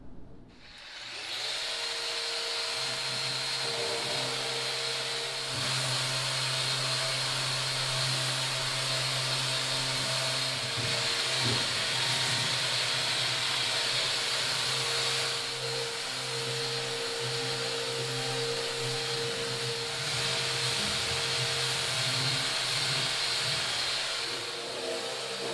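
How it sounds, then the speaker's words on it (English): Electric sander smoothing a car center console being prepped for fiberglass, a loud continuous whirring hiss held steady for about twenty-five seconds with no talking. "Now I'm going to touch it up with my sander."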